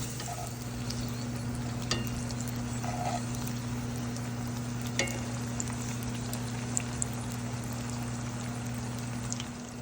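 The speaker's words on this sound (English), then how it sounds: "we'll let them fry up for about maybe 2 minutes on each side, or until they're golden brown" Halibut wontons frying in a pan, giving a steady soft sizzle with faint crackles and a constant low hum, heard alone without talk.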